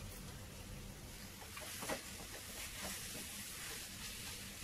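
Half a kilo of chicken sautéing in a pan for Chettinad pepper chicken, a faint, continuous sizzling hiss with a few soft stirring scrapes.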